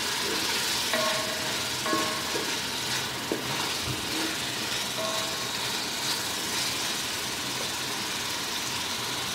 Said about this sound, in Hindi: ये आलू है, उनको भी 1-2 मिनट फ्राई करेंगे।